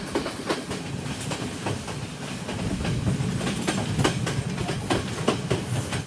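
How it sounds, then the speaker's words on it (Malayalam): A first-class train from Colombo to Kandy in Sri Lanka rumbles steadily along the track, with rhythmic clickety-clack of wheels over rail joints and a constant roar throughout; no voices. "ട്രെയിൻ ഇപ്പോൾ കടികമുവ സ്റ്റേഷനിലേക്ക് എത്തിയിരിക്കുകയാണ്"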